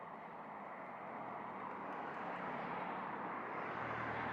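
An Air Canada airliner taking off from the runway at Montego Bay, Jamaica, a faint, steady jet roar heard from a distance that slowly builds over a few seconds.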